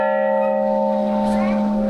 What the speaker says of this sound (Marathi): मंदिराच्या बरोबर समोरच खूप मोठी घंटा आहे.